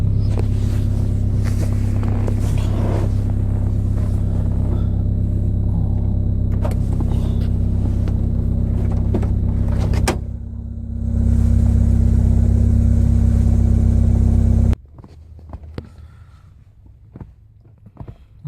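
A car runs during a drive with a loud, steady low engine hum inside the cabin that shifts partway, then cuts off abruptly, leaving near quiet with a few faint knocks and no voices.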